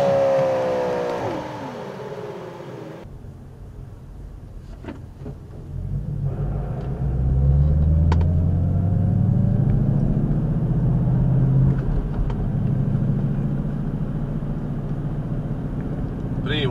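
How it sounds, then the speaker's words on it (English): A car drives at night as heard through an AZDOME 4K dash cam, a steady low engine and road rumble that rises midway and holds, with faint interior clicks. "this is nighttime driving"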